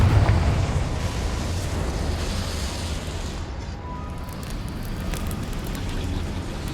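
Confringo fire-blast spell in Hogwarts Legacy, a loud rumbling eruption of fire with a heavy low-end roar that slowly fades into a sustained crackling rush over several seconds.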